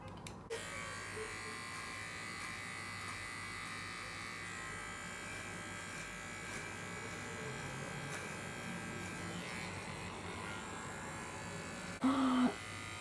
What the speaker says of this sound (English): I'm just gonna shave a tiny bit off now, in case I regret it